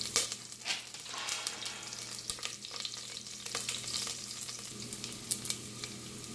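Chopped garlic and green chilies sizzle and crackle steadily in a pan of hot oil while bhindi fry is being prepared, a close, continuous frying hiss with small pops and no talking.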